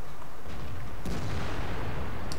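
A single heavy KV-1S tank cannon shot in World of Tanks, a sharp blast about midway that decays into rumbling engine and battle noise, with faint distant shots near the end.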